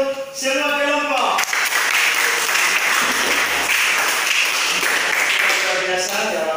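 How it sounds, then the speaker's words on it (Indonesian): Classroom audience applauding all the groups during a Christian religious education lesson, a full, steady burst of clapping right after a short spoken phrase, continuing for several seconds. "tepuk tangan untuk semua kelompok"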